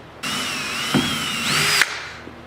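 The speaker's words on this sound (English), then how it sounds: "we have to drill the holes." A power drill boring holes in the frame of a 1980 Triumph TR7 soft top, one close, loud whirring run with a pitch that wavers and rises before stopping sharply, then a brief clatter.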